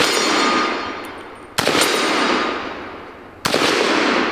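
Two sharp, loud M1 carbine gunshots at outdoor targets, each a sudden crack about two seconds apart with a long decaying echo rolling between them.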